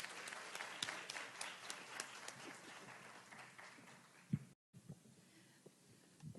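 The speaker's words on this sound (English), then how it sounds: "Let's give a warm round of applause" Audience applause at a School of Education pinning ceremony, steady crowd clapping filling the room, briefly cut off near the end before resuming more thinly.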